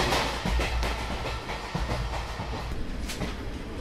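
A train rolls along the rails with a continuous rumbling clatter, steady and fairly close, and no one speaks.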